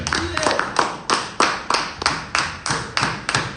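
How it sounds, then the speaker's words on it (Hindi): A seminar audience claps in unison for a team leader at a closing session, a sharp rhythmic series of about ten synchronized claps evenly spaced, with a brief voice at the start. "मैं चाहूंगा कि हमारे टोपाज लीडर ईश्वर प्रजापति सर के लिए एक बार जोरदार तालियां हो जाए।"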